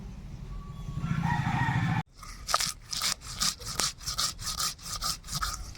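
Black and white mustard seeds, green chillies and a little poppy seed are ground by hand, heard as about ten rhythmic scraping strokes after a brief stretch of other background noise.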